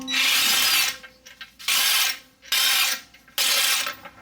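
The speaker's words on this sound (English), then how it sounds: "so you can remove that lock nut right there." A ratchet turns a 17mm lock nut off the windshield washer pump of a 2016 Mercedes GLC 300, making four loud, close bursts of rapid clicking with short pauses between strokes.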